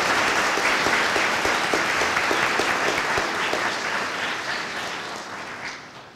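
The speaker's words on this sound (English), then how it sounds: "if you could give these individuals a round of applause" Audience applause at a high school equivalency graduation ceremony, a dense steady wash of many hands clapping that holds loud and fades slightly toward the end.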